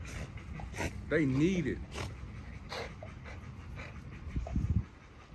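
A dog whimpers and pants softly, with a rising whine in the middle, under a person speaking nearby.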